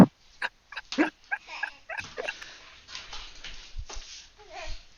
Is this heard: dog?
yes